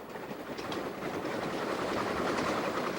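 A BN freight train speeds over the rails through Montana farmland, a steady loud rumble of wheels with faint clickety-clack, continuous and close with no voices.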